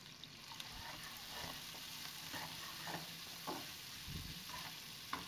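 Ginger garlic paste sizzling in hot oil while being stirred for a chicken curry, steady frying crackle with repeated scraping strokes of a spoon throughout, close and moderately quiet, no talking.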